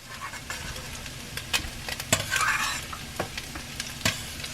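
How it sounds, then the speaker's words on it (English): Cooked meat for carne con papas sizzles in a pan while a utensil stirs it, producing a steady frying hiss broken by several sharp scrapes and clinks, close and moderately quiet, with no talking. "Let me give this a stir because this meat is ready."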